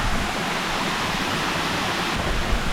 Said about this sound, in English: Walking down to the waterfall.